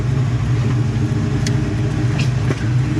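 Car with an MGW short shifter and race handle pulling hard at full throttle, engine droning loud and steady with a low rumble throughout, close and continuous, no voices.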